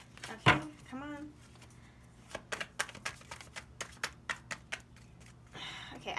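A deck of tarot cards is shuffled close by, a series of crisp riffling clicks and taps in an irregular rhythm, fairly quiet, following a brief spoken word.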